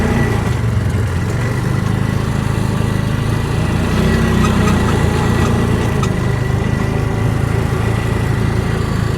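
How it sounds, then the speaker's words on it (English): A UTV engine fitted with an extra muffler runs steadily near at hand, a constant, dense mechanical drone with almost no exhaust note, unbroken for the whole stretch. "this thing has that extra muffler on it, so all you really hear is the engine"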